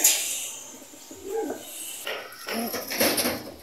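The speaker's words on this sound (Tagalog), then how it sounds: "check natin yun si Miss General at saka yung dalawang young bird na tinamaan ng sakit" Pigeons in a loft coo and flutter close by, soft murmuring calls rising in several short bursts over quiet background.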